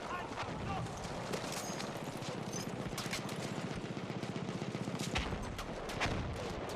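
Martini-Henry rifle gunfire in a 16 versus 16 multiplayer match of a first-person shooter game, with steady crackling shots and distant battle noise running throughout and a player talking over it.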